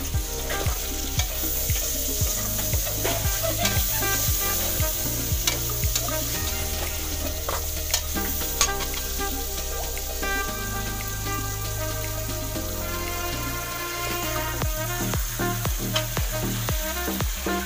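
Onions sautéing in hot oil with a continuous close sizzle and frequent stirring scrapes and clicks, keeping up a busy, steady texture throughout.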